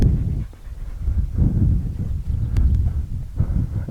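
A puppy pants in quick, breathy bursts close by during a training session outdoors, with some wind rumble underneath.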